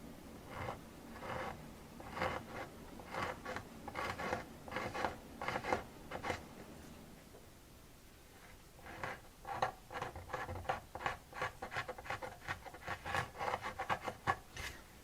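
Razor blade scraping dried glue off the binding of a 1941 Martin D-28 acoustic guitar during repair: close, quiet strokes in quick bursts, a brief pause midway, then faster rasping strokes, with no talking.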